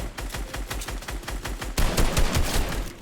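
Rapid automatic gunfire in the video game Fortnite rattles in quick repeated bursts, fairly loud and growing denser and louder partway through, with no talking.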